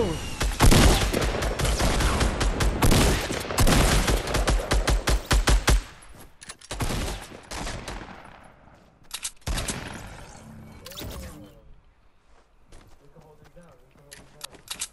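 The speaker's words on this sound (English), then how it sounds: "Minigun." A minigun fires in Fortnite, producing a dense, rapid, sustained burst of loud shots, then shorter bursts and scattered gunfire that fade out, with speech heard alongside.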